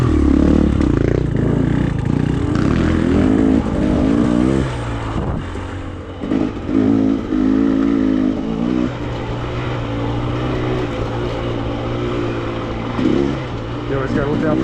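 An enduro motorcycle on a Black Diamond trail in Colorado approaches up close, its engine revving and rising in pitch amid clattering and scraping, with the rider's voice talking over the loud, continuous motor noise.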